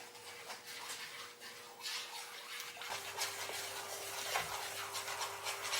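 A frying pan slid back and forth on a stovetop while sugar melts into caramel, giving a steady soft scraping and rubbing with faint sizzle, close and continuous over a low background hum.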